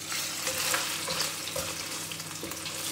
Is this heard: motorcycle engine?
no